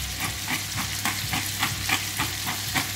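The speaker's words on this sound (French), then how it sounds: "on va commencer à les faire colorer un petit peu" Salsify pieces sizzle and fry in a hot pan for browning, a steady crackling hiss broken by regular stirring scrapes roughly every half second, close and alone with no voices.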